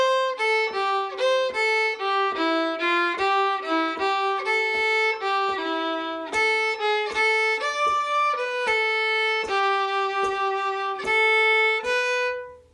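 A solo fiddle plays the Dill Pickle Rag, a lively tune of quick bowed notes in a steady rhythm, clear and close, with no talking.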